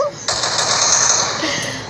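Rapid video game gunfire rattles in a sustained burst, loud and continuous with a sharp start.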